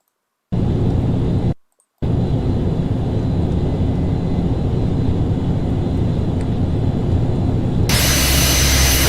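An ATR 72 turboprop climbs in the FSX flight simulator, a steady, loud engine drone that cuts out briefly near the start, then swells into a brighter, louder roar at the end.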